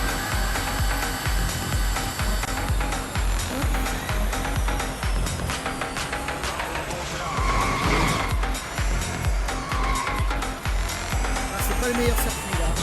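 Electric race car in the mobile racing game Real Racing 3, a steady high-pitched motor whine with tire squeal and skidding, continuous and loud, with someone talking over it.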